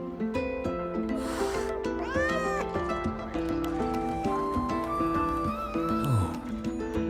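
Cat meows from the video game Wuthering Waves, several rising and falling cries heard over continuous background music, moderately loud throughout.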